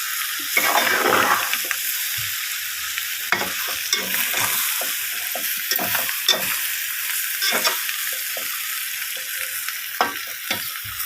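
Mutton blood fry sizzling in oil in a pan, a constant bright crackle broken by frequent scraping strokes of a spatula, close and loud with no talking.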